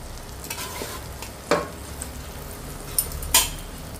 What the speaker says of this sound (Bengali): এবারে আমি সমস্ত কিছু একসঙ্গে ভালো করে মিশিয়ে নিচ্ছি নেড়ে চেড়ে।